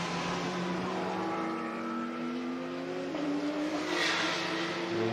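Touring race cars battle through a turn on a circuit near Riga, engines droning continuously and rising in pitch as they accelerate, heard from a moderate distance with a steady roar and no voices.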